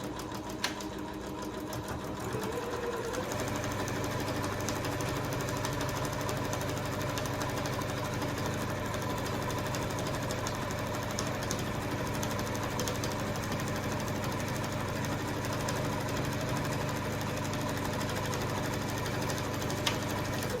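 A sewing machine runs steadily, stitching corner to corner across a homemade potholder, its motor whirring in a continuous close hum for the whole stretch with no talk.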